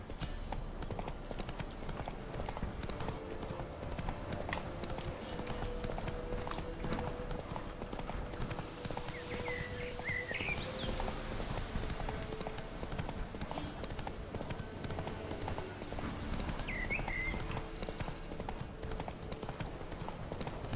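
The horse Roach trotting in The Witcher 3, with a steady rhythmic clip-clop of hooves close by that continues throughout over a low rumbling ambience, and a brief faint whinny-like sound now and then.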